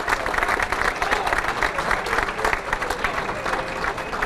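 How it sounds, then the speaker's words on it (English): A banquet audience at the Pennsylvania Sports Hall of Fame gives a long round of applause for an honoree, with dense steady clapping and some cheering filling the room throughout. "Give him a big round of applause."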